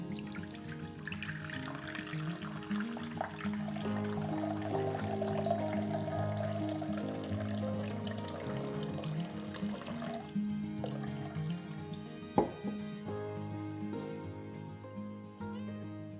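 Water is poured steadily into a container on a scale for a tallow soap lye mixture, a continuous close trickle and splash that runs for many seconds with a small knock near the end.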